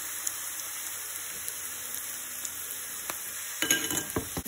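Onions fry in a pan with curry leaves and turmeric, giving a soft, steady sizzle. A few clinks and a louder burst of stirring come near the end.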